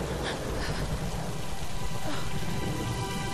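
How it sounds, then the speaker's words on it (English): Steady, dense rainfall pattering on surfaces, with a low rumble of thunder beneath, in Tomb Raider, constant and loud with no speech. "And it's raining."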